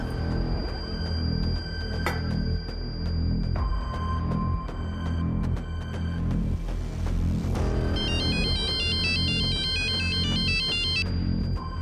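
An electronic phone ringtone plays continuously for about twelve seconds, a repeating melodic pattern over a dense, loud background, with a bright warbling tone near the end.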